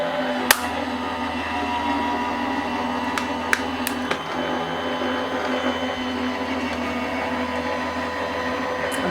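Gemini die-cutting machine feeding card through with a steady, continuous motor hum, a few faint clicks on top, no talking.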